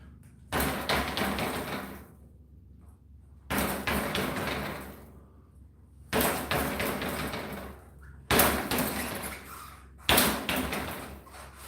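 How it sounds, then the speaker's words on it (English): Chain on a Kent Trouvaille bicycle with the clutch off, slapping and rattling as the bike is repeatedly dropped: five sharp thuds, each followed by a short metallic clatter that fades, spaced about two seconds apart. "let's just do the drop test. See this chain down here? It'll bounce all over."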